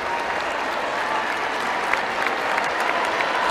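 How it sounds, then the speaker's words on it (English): A basketball crowd at a Duke home game claps and cheers after a defensive stop, a dense, sustained wall of applause with scattered shouts, with no talk over it. "the crowd makes a little bit more noise here after getting the stop on one end"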